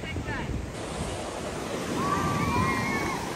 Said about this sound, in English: And we have more waves.